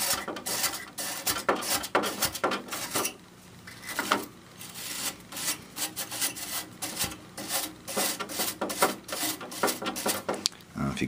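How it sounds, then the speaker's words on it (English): Irregular scratchy scrubbing strokes from a stainless steel wire brush working over an air conditioner unit, close and uneven with brief pauses between bursts. "This is a stainless steel brush from Harbor Freight."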